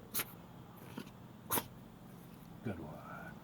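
A puppy does sneezes on command as a trick, giving three short sharp bursts spread across a few seconds, fairly close and clear over a quiet room background.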